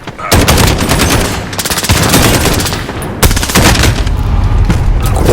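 Loud, sustained automatic gunfire in Call of Duty: Modern Warfare, long rattling bursts with brief pauses between them, close and intense throughout.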